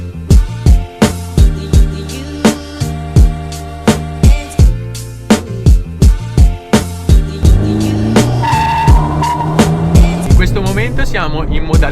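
A 145 hp Abarth 595 in sport mode, a light front-wheel-drive hatchback, is driven hard, its engine rising and falling in a rapid series of sharp revving pulses, followed by a steadier strained drone with squeal-like tones near the end.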